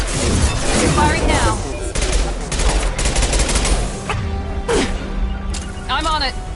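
Mass Effect 2 firefight: repeated bursts of rapid gunfire crackle across the scene, with sharp blasts, whooshing shots and a rumbling low end, and character voices break in between the volleys.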